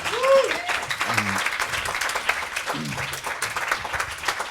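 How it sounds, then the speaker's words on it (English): Sustained applause from the audience at an academic conference's closing plenary, a dense steady patter of many hands clapping throughout, with brief voices heard faintly among it. "One last applause."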